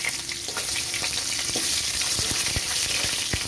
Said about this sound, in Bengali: মাছ ভাজার তেলেই আমি আলুটা দিয়ে দিচ্ছি।